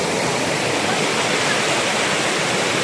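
Steady, loud roar of Pahine Waterfall among rocks and forest, rushing water filling the whole clip, constant and broadband with no pauses.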